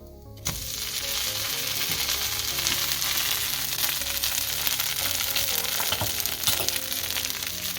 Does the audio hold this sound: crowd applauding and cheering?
no